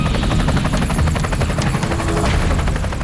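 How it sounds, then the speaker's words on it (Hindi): An Indian Air Force Apache attack helicopter at a forward air base, preparing for a night operation, gives off a loud, steady rotor thump and turbine roar that fills the whole stretch without a break. "इस फॉरवर्ड एयर बेस से वायुसेना का अपाचे हेलीकॉप्टर नाइट ऑपरेशन के लिए तैयार हो रहा है।"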